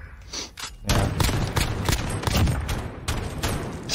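Shotgun blasts in a Call of Duty Modern Warfare 2v2 match, a quick run of sharp, loud reports with heavy thuds, fired in close succession after a quieter opening.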